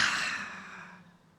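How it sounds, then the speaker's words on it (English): Forceful loud exhale during a group breathing exercise, one sigh-like rush of breath starting at full strength and tapering away over about a second, close and unaccompanied. "Maybe super loud exhale."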